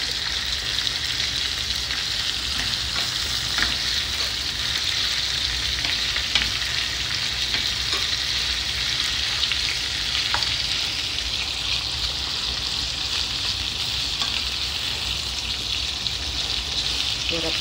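Pork menudo meat fries loudly in a pan with a dense, steady sizzle, stirred now and then with faint scrapes, continuous and close with no talking.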